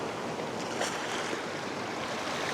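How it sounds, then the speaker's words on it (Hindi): Surf rumbles steadily on a sandy beach as a big ocean wave breaks, a broad continuous wash of water with a slight swell in the middle, close and full, with light wind noise. "एक बड़ी लहर आ गई जी"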